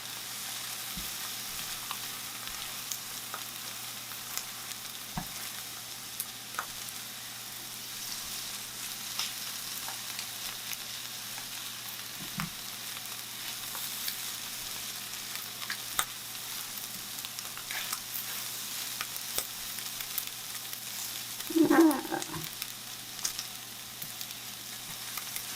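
SPAM fries softly in a pan, a low steady sizzle running throughout with occasional scrapes and clinks as it is stirred, louder near the end.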